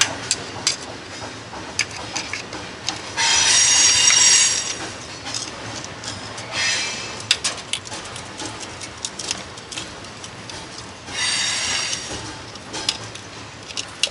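A vacuum runs in bursts inside a 1979 Ford F150 truck, with three short stretches of hissing suction separated by quieter pauses and light handling clatter.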